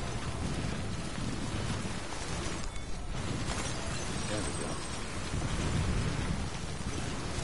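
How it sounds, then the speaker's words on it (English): Wind and rain in the video game Death Stranding form a dense, continuous roar with gusty swells, filling the scene at steady loudness, with a brief dip partway through. "Wind and rain."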